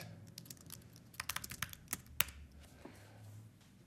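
Typing on a computer keyboard, a run of quick, crisp key taps, sparse at first and then bunched into a denser flurry, close and fairly quiet with no talk.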